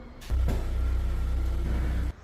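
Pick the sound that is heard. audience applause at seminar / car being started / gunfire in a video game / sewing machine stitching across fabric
car being started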